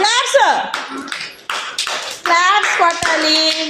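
Preschool children at an anganwadi clap their hands in a short burst of taps, mixed with children's voices talking and chanting throughout.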